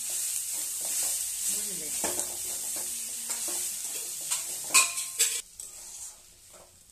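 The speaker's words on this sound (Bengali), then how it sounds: "আর কুঁদরিটা ভাজার সময়তেই হলুদটা দিয়ে দিবে" Ivy gourd pieces fry with turmeric in a pan, sizzling under repeated spatula scrapes and clinks against the metal, a brief spoken word at one point before the sound fades out.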